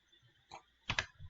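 A computer keyboard sounds as JavaScript code is typed: a few quiet, separate key clicks, one alone and then a quick double stroke, close and isolated.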